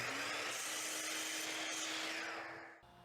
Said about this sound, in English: we start by ripping stuff down here on the mighty table saw